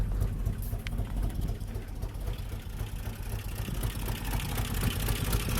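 A 1988 MJ with a 2.5L engine idles with a slight misfire, a steady close-up rumble broken by faint uneven stumbles, running on its own without talk.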